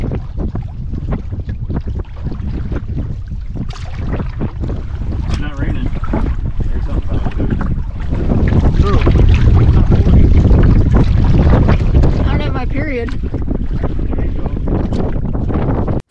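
Gusty wind buffeting the microphone while canoeing in the Boundary Waters, a loud continuous rumble swelling midway, with water sounds from the canoe and occasional talking.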